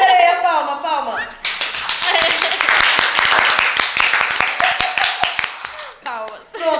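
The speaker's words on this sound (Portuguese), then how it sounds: "Palmas. Pronto, palmas." A small group claps together on a Portuguese-language podcast set, a dense run of sharp hand claps lasting several seconds, close and loud, after a brief spoken lead-in and with speech returning at the end.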